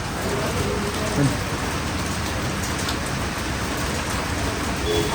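Steady, dense rain hiss fills the whole stretch at an even level, with a few faint background tones and no clear talking.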